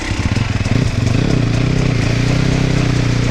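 An enduro motorcycle engine revs hard and steadily as the rear wheel spins, loud and close with a rough, pulsing drone that settles into a sustained high-rev note.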